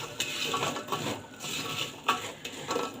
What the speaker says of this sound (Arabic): ونقلب.